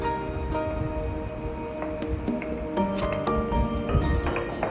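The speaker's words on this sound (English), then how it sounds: "Now we start to add our onions to saute." Chopped onions sizzling in about three tablespoons of hot olive oil in a pot for pho bo, a steady close crackling sizzle with wet squishy pops throughout.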